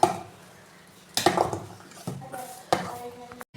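A spoon stirring a thick shake of soaked fruit, dates and nuts in a bowl, a few distinct scraping clinks spaced apart with soft squelchy mixing between, close and fairly quiet.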